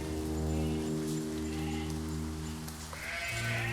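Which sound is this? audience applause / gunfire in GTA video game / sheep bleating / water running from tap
sheep bleating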